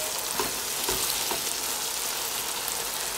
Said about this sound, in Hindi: अब मैं इसमें मैरिनेट किया हुआ चिकन डालूंगी।